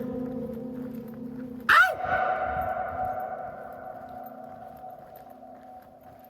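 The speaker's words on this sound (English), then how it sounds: "That's your echo, ladies and gentlemen." A single loud burst inside a road tunnel rings out and trails into a long, fading echo that hangs for several seconds.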